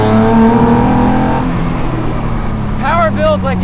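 A V6-swapped Exocet accelerates, its engine droning loud and close with a steady, strong tone that gives way to rougher road and wind roar, with a few brief high chirps near the end.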